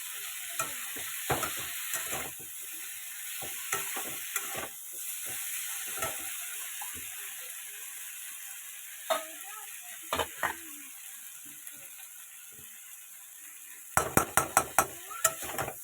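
Food is stirred in a pan over a steady background hiss, with irregular scraping and clinking strokes of a spatula against the metal, faint and spaced out, then a quick burst of sharper strokes near the end.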